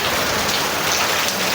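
Heavy rain pours steadily, a dense close patter of drops drumming on a surface with no pauses.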